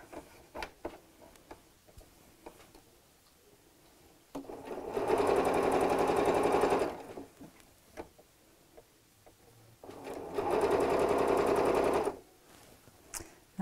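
A sewing machine stitches the final seam of a fabric storage cube in two rapid, buzzing bursts of about two seconds each, separated by a quiet pause, heard up close.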